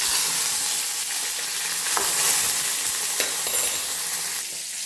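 Mustard seeds, urad dal, dried chilli and curry leaves sizzle steadily in hot oil for a tempering, a dense continuous crackle with a few sharp pops and a faint stir near the end.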